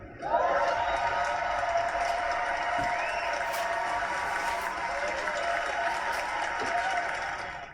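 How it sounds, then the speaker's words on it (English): An audience claps in a sustained round of applause at a televised event, dense and steady for several seconds with crowd murmur mixed in, tapering slightly at the end. "Remember that round of applause right there"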